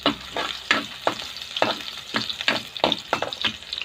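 Ginger and garlic sizzle and crackle in a pan, with repeated rhythmic bursts of stirring scrapes over a continuous frying hiss, close and fairly loud.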